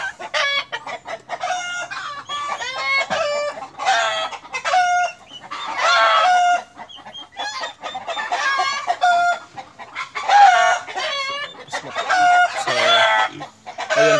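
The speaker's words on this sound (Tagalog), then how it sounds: "Manok." Chickens cluck and squawk continuously and loudly up close, overlapping calls from several birds with a rooster's crow breaking through at times.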